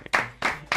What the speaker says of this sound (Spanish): Este aplauso no es para mí, este aplauso es para él.